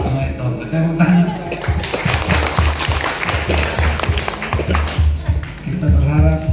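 A crowd at an outdoor church revival and charity gathering claps in a rattling, uneven burst, with voices and a few laughs mixed under the applause.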